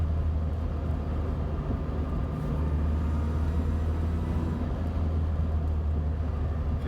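A truck engine hums and rumbles steadily while driving, a constant low drone with road noise and no one speaking.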